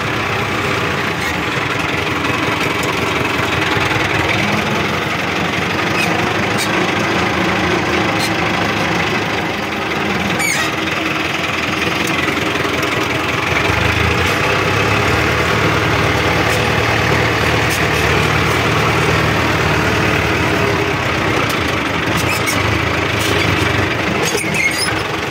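A tractor engine idles steadily at close range on a farm, a low rumbling drone that holds throughout with slight shifts in loudness.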